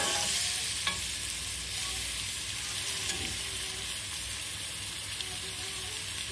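Shredded cabbage stir-fried in a hot pan for Chinese fried rice, a steady dense sizzle with faint scraping clicks from stirring, close and continuous with no talk.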